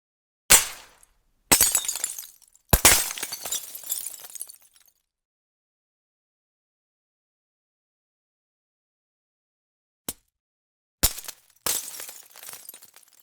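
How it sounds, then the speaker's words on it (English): An AI-generated glass ball strikes a wall and shatters, sharp crashes followed by tinkling fragments in two separate bursts of several hits each, with a long silent gap between them. "a glass ball hitting a wall and shattering into pieces"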